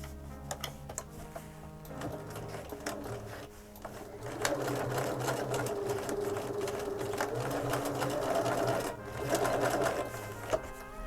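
A sewing machine top stitches a rain cape with a lengthened stitch, running in a continuous rapid mechanical chatter that grows louder and denser partway through, close and steady.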